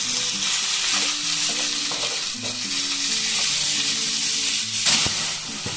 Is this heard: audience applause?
no